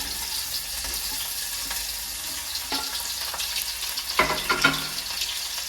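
Sliced onions, cinnamon and cloves fry in hot oil in a pan for ghee rice, giving a steady, close sizzle with a few stirring knocks near the end and no voices.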